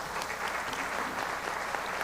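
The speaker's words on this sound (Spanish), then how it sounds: "Un aplauso para ella, por favor." Audience applause at a presentation of a parenting coordination protocol, a dense steady clapping that fills the whole short stretch at a moderate level.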